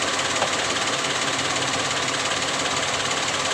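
The engine of a Suzuki Karimun Wagon R, idling with heavy vibration, gives a dense, constant rumbling drone with a rough, shaky texture. It is steady and close throughout, with no talk over it.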